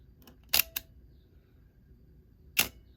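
An Olympus OM-2n film camera with a 50mm f/1.4 lens gives two or three crisp mechanical clicks as it is wound. The clicks are close, quiet and isolated against near silence.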